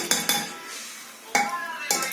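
A metal pressure cooker holding mutton is handled up close, with four sharp metallic clanks in two quick pairs separated by a short, quieter gap.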